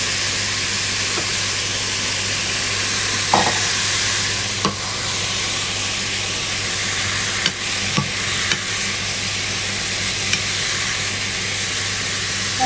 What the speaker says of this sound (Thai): แล้วเราก็จะใส่สับปะรดลงไปผัดนะคะ